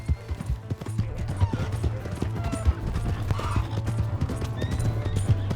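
A horse gallops in Red Dead Redemption 2, with rapid, close hoofbeats drumming over a low rumbling background, occasional snorts or whinny-like cries, and some faint voices mixed in.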